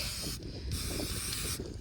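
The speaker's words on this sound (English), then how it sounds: "I'm just going to spray it with the blue spray and a bit on the back." Blue cyclo spray hisses onto a Valais Blacknose sheep's foot during hoof trimming, two or three short, soft aerosol bursts separated by brief pauses, close and quiet.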